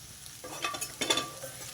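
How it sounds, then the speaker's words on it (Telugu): Mushrooms fry in butter, sizzling in a pan while a utensil stirs and scrapes in short bursts, close by and fairly loud. "మష్రూమ్స్ చక్కగా వేగిపోయినాయండి"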